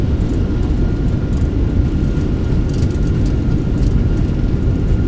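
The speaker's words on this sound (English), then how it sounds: "Reversers are out." Thrust reversers on a Fenix A319 landing in Microsoft Flight Simulator 2024 give a loud, steady, broadband engine roar with a deep low rumble that holds evenly from start to end.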